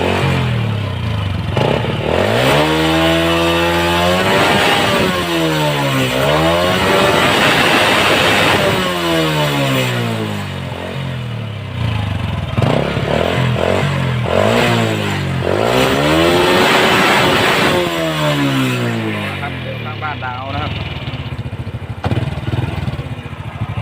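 A Honda Wave 100 motorcycle engine revs up and down repeatedly, loud and close, each rise and fall of the throttle clearly audible.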